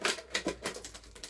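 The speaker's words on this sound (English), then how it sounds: "now what we're going to do is we're going to grab the scissors and we're going to cut" Scissors cutting through a plastic bottle, a series of about six crisp snipping crunches in an irregular rhythm, close and fairly quiet with no talking.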